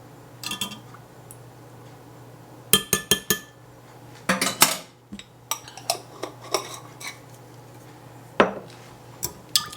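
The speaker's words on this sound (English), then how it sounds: "I'm just going to mix this up fairly well just to break everything up and get it all mixed together" A spoon stirs sourdough pancake batter in a bowl, giving sporadic clinks and scrapes against the bowl in irregular bursts over a quiet, faintly humming room, with no talking.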